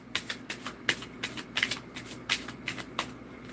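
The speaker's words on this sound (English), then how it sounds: "I'll give one more shuffle through if there's anything else you wanted to pop out." A deck of reading cards being shuffled by hand gives a rhythmic run of crisp, papery riffles and slaps, close and moderately quiet, with no talking over them.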